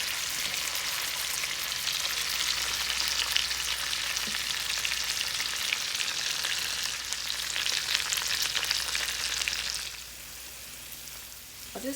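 Fish fries in a covered pan with a steady, loud hiss and crackle throughout, dropping in intensity near the end, with no talk.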